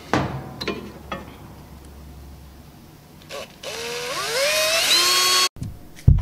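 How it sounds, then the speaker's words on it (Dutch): A few light taps and clicks, then an electric drill spins up with a rising whine and runs steadily, boring a hole in a quad carburetor, before cutting off abruptly. "Misschien aan de andere kant ook nog een gat boren."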